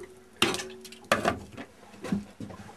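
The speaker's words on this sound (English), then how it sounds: "There, the kettle sits firmly on the stove" A metal kettle is set onto a top-loading stove aboard a pitching boat, giving a few sharp clanks and clinks of metal on metal as it is placed and settled.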